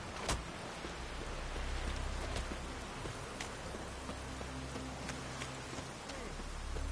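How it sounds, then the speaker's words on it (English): Steady rainfall in the video game Witcher 3, a dense even hiss with scattered louder drops and a low rumble underneath, lasting throughout. "Looks like rain."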